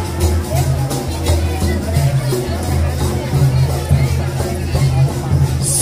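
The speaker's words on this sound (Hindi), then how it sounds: "हमारे गाँव में तो बिकट ज्यादा भीड़ हवा" A large village crowd at a Jawara immersion procession, a dense murmur of many voices with a low droning hum beneath, steady and fairly loud throughout.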